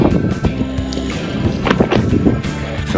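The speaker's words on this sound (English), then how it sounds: "Windy out here today." Strong wind buffets the microphone aboard a fishing head boat at sea off Ocean City, Maryland, a steady loud rumble with gusty bursts and faint creaks, no talk.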